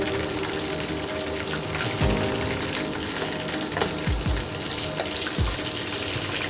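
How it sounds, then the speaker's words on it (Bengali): Chicken sticks for a restaurant-style starter frying in hot oil: a dense, steady sizzle and crackle, close and continuous, with a few soft knocks from utensils. "চিকেন স্টিকগুলো ভাজা হয়ে গেছে"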